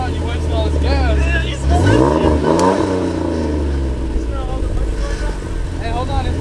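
2007 Jeep Wrangler Unlimited fitted with a Gibson exhaust, its engine blipping up in a sharp rev that swells and falls back to a rumbling idle, with people talking nearby over the engine.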